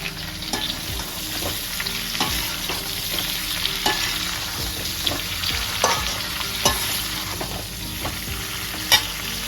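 Capsicum and onion frying in a hot pan for chilli chicken: a continuous sizzle with repeated sharp scrapes and clacks of a spatula stirring the vegetables, close and fairly loud.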